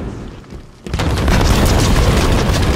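A grenade blast in the shooter game Halo 5, a sudden loud deep boom that rolls on as a rumbling roar after a brief quieter moment, close and dominant.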